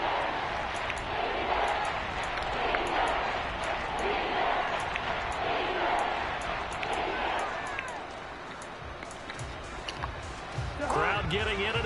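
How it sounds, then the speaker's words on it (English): Crowd roar in a stadium at a professional American football game, a loud sustained rumble of many voices early in the drive, with a commentator talking over it throughout. "Crowd getting in it a bit already."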